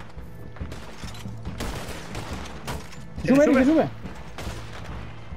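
Gunfire in Red Dead Redemption 2 comes as scattered sharp shots and short bursts from a turret machine gun, while someone shouts excitedly in Spanish in the middle.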